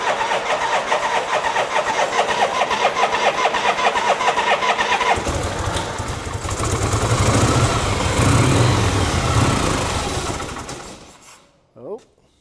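A 1977 Harley-Davidson Shovelhead motorcycle engine cranks with a rapid pulsing rhythm, catches and revs loudly for several seconds, then dies away, leaving a short clatter.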